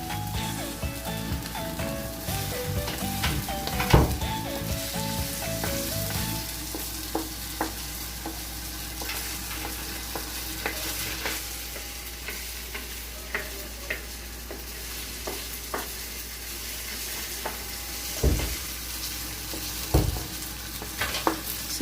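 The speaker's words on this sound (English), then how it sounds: "Let's add first the ginger. So we're putting first the ginger." Ginger sautéing in a pan for Filipino pork bopis, a steady close sizzle and frying hiss with a few stirring scrapes and occasional clicks, no voices.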